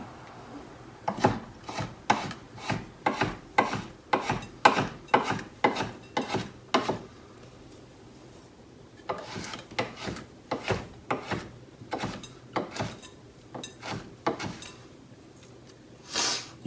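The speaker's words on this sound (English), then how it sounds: "you then have to chop the zest." Lime zest is chopped with a knife on a wooden board in quick, crisp taps that come in two rapid runs with a short pause between them, close and clear.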